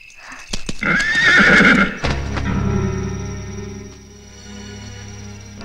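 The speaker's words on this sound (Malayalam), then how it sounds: "മൻസൂർ, കുതിരയെ താഴേക്ക് നിർത്തൂ," A horse whinnies loudly and close, a long high neigh in the first two seconds, then its hooves clip-clop in a steady rhythm as the call fades.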